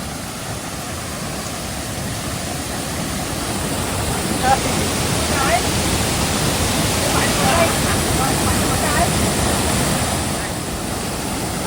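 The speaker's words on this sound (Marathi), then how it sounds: "तिथे धबधबा पडतोय आणि हे पाणी आहे ना ते खालच्या बाजूला गेलं" A very beautiful waterfall in a thickly wooded natural spot at Malgund pours steadily, its water running on down below, making a broad, constant rushing roar that grows slightly louder midway, with faint voices briefly audible over it.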